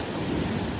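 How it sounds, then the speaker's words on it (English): Ocean surf washing onto Vanderbilt Beach at dawn, a steady broadband wash with wind across the microphone, continuous and fairly close. "Just enjoying the sounds of the waves."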